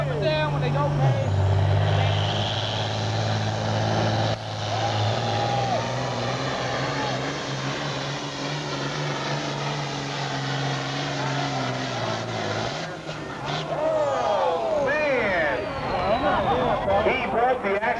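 Pulling tractor roaring down the track at a tractor pull, a loud sustained engine drone that shifts in pitch as it passes, with an announcer talking over it throughout.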